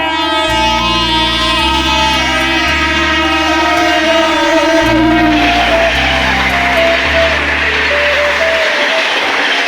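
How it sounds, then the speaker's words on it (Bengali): A loud, sustained train horn blares with shifting tones over the rumble of a train on the tracks, close by and continuous. "আমরা দেখছি এদিকে ট্রেন আসছে বন্ধুরা দেখতে ট্রেন আসছে ট্রেন আসছে"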